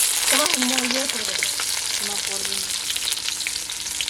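Onion, cumin, dried chilli and bay leaf frying in hot oil, a loud, close, continuous sizzle with stirring, with brief speech near the start and middle.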